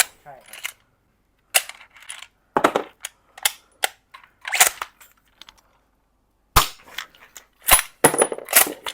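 A wooden-stocked Lee Enfield No.1 Mk III replica bolt-action BB air gun, which shoots single shots and ejects shells, sounds as a series of sharp, close clicks and snaps separated by silences. Some are quick clusters and some stand alone.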